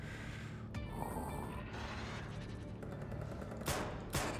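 Gunfire from the video game Drake, a few sharp bursts of shots sounding near the end over a steady, dense bed of in-game background noise.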